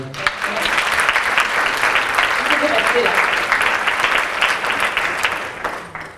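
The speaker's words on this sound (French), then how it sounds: "Merci, on peut l'applaudir." Sustained applause from an audience at a women-men equality forum, dense and steady clapping filling the whole stretch before tapering slightly at the end.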